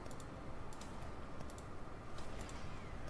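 Rapid computer clicks in short bursts while gear and gems are selected in a game menu during an upgrade in Revelation Online, sounding close and dry over a steady low background hum.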